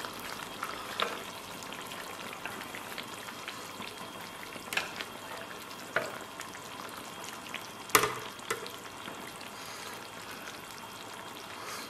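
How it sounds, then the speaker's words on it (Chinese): Lamb slices sit in a spicy hot pot, giving a soft, steady bubbling and sizzling with a few sharp clinks and taps, fairly quiet and close. "然后咱们把这个羊肉下到锅中"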